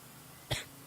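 A single short, sharp cough, close by, breaking an otherwise quiet background.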